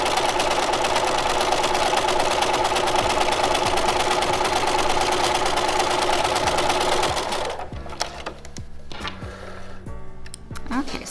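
A sewing machine running a 5/8-inch seam for a flat felled seam, a loud continuous whirring drive for about seven seconds before stopping, then a few softer clicks and handling sounds.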